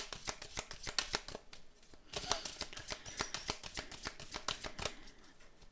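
Oracle cards being shuffled by hand, a rapid series of crisp, papery riffles and slaps that come in bursts and carry close and clear, with no talking over them.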